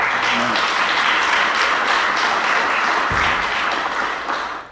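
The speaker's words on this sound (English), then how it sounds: "That was right on cue, because my script says here to please give them a round of applause." Audience applause fills a city address for the 2019 State of the City in San Gabriel, steady dense clapping from a large crowd that holds for several seconds before tapering slightly at the end.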